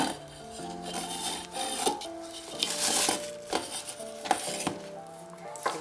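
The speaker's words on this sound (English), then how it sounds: "It's an inner pot." A Geepas GRC4326 automatic rice cooker's metal inner pot being handled, giving several close clinks and knocks at irregular intervals over a faint background hum, with no speech.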